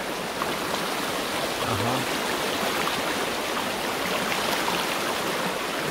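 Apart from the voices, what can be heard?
river stream flowing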